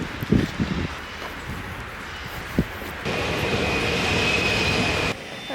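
A metro train rides along on its way to the station, with a few clanks and thumps, then a louder steady rolling roar with a thin high wheel whine before it drops off.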